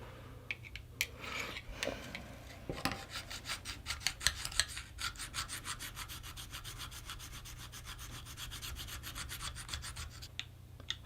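A knife blade strokes repeatedly across a Lansky sharpener stone in a quick, steady rasping rhythm of many short scrapes, close and fairly quiet.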